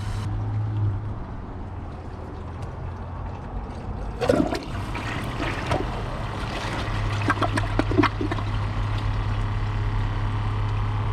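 A Kohler Class 5 toilet flushes in one burst with water rushing and gurgling down the bowl after a few quiet seconds, against a steady background hum, then it drains and settles.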